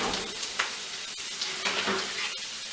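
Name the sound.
paleo meatballs frying in a skillet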